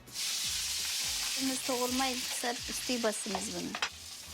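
Mutton on the bone sizzles steadily in a pan for a grape-harvest meal, with a bright continuous frying hiss and intermittent scraping and stirring clatter, heard close and without talk.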